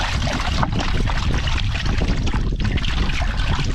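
Water pours steadily into a container to dissolve poultry manure fertilizer for feeding young raspberry plants, a close, dense splashing rush lasting a few seconds without talk.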